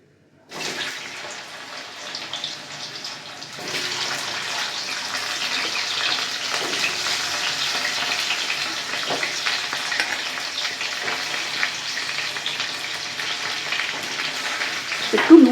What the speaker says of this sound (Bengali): এবার এই তেলে কচুর টুকরোগুলো আমি ছেড়ে দেব